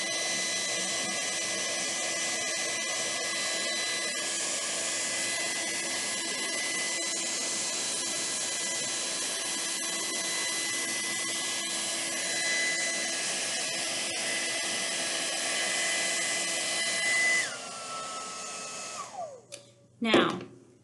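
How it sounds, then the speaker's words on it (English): A hair dryer runs steadily to melt crayons for crayon art, a close, constant whirring hiss that holds for about seventeen seconds before switching off and winding down, followed by a few brief clatters. "we did run the hairdryer for a little bit"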